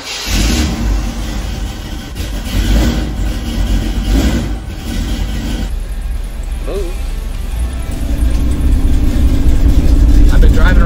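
A Squarebody street truck with 3.73 gears and posi rumbles close by as it warms up, its engine droning steadily and swelling louder toward the end, with a voice speaking over it.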